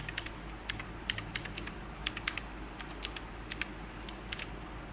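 Quick, irregular keystrokes on a computer keyboard as a password is typed, a steady run of light close clicks over a low background hum, with no talking.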